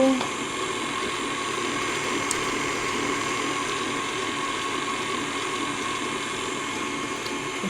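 A stand mixer whirs steadily at close range as eggs are beaten one at a time into chocolate cake batter, with a constant mechanical hum and no pause across the stretch.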